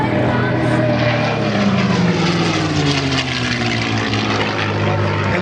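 A propeller-driven warbird flies overhead at the Ferté-Alais airshow, its engine a loud, steady roar that sweeps past with a gradually falling drone.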